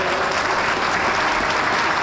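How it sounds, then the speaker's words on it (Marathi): Dense, steady applause from a large audience, loud and close, honoring the performers of a Shivaji Maharaj heroism tableau at a Mumbai puja display, with no speech over it. "एकदा टाळी त्यांच्यासाठी होऊ द्या"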